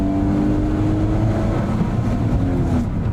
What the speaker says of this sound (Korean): RPM을 한번 띄워주고 가속력을 이끌어내서